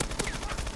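Pistols fire in Call of Duty: Advanced Warfare, a quick burst of several sharp shots in rapid succession, close and fairly loud, with no talking.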